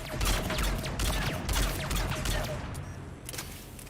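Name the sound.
gunfire shooting a force field in video game Mass Effect 3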